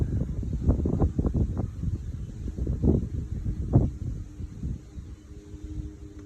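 Wind buffets an outdoor microphone in uneven low rumbling gusts, heaviest early on and easing off toward the end, with no talking.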